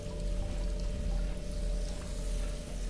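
Water runs in a steady, soft pour in the Albedo video game, a low continuous trickle-like wash with no voices over it.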